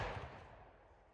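A single rifle shot from a Remington Model 81 fired lengthwise into a block of wood, caught mid-decay as a short, fading boom and rumble with no voices.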